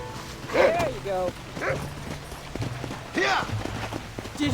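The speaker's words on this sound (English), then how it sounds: "Oh, that's the dog." A dog in the Red Dead Redemption video game gives several short barks and yips, moderately close and spread across a few seconds, under and between in-game speech and light movement sounds.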